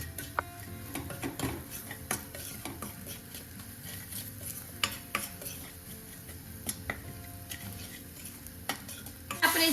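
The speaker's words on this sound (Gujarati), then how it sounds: "ત્યાર પછી આપણે સોલ્ટ એડ કરીશું અને મસાલાને આપણે આ રીતે સાંતળી લઈશું" Masala with salt is sautéed in a pan for pav ragda, with a soft steady sizzle under repeated scrapes and clinks of a spoon stirring against the metal pan, close and without talking.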